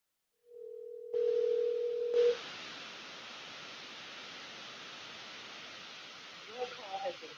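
Telephone call being placed: a steady tone of about one second, then a noisy, hissing line connection that continues for several seconds, with faint brief speech near the end.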